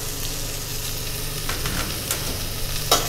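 Vegetables with lamb and garlic sautéing in a pot for an Irish lamb stew, a steady close sizzle with a few stirring scrapes and clinks near the end, over a low constant hum.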